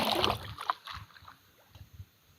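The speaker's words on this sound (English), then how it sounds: "I am working here and paddling" Canoe paddling on the Green River in a canyon on a chilly morning: soft paddle strokes and water swishing near, strongest at the start and fading to gentle rhythmic dips, no talk.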